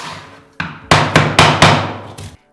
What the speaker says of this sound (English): you can give them a little tap with your block if you need to